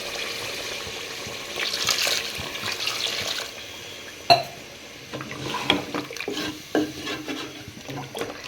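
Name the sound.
water added to frying curry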